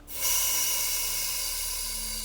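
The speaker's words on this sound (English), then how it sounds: "Suddenly, the train let out a big gush of steam which startled him." Steam train letting out a big gush of steam, a loud, close, sustained hiss that starts abruptly and holds steady for about two seconds, with no voices.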